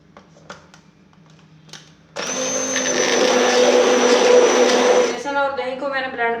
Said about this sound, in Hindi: मैं स्टिक ब्लेंडर से इसको ब्लेंड कर रही हूँ